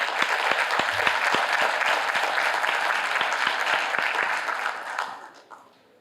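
A community budget meeting audience applauds Reverend Willie Calhoun with steady, dense clapping that holds for about five seconds, then fades out near the end.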